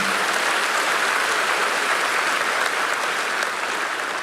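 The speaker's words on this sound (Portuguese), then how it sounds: "Uma salva de palmas, coisa linda" Congregation at a church sermon applauding together, a steady dense wash of many hands clapping, loud and even throughout with no voices rising above it.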